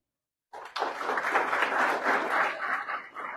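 Applause from an audience honouring medal-winning athletes at a sports awards ceremony, starting abruptly and holding as steady, dense clapping for about three seconds.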